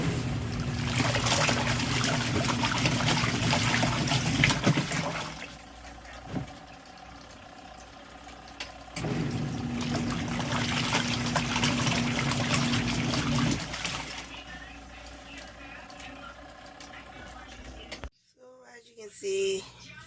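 Water gushes steadily into an RV washing machine drum, a continuous rushing flow that pauses briefly midway, resumes, then cuts off near the end before a few faint clicks.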